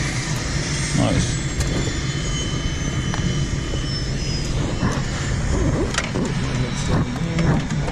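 A Cessna aircraft engine running steadily on the ground at KSNS, a loud continuous drone with a faint sweeping whine, while people talk over it.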